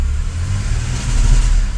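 Worn-out used car engine revving hard and misfiring, a loud, rough, uneven roar with lumpy low-end pulses that rise in intensity partway through.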